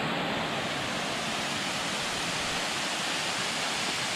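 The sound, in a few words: waterfall at Ricketts Glen Falls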